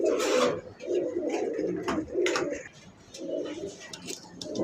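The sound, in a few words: pigeons cooing at a pigeon farm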